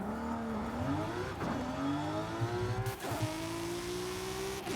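A loud car engine in a video game revs and drones steadily, pitch rising and falling as it accelerates and shifts, with a couple of brief gear-change dips.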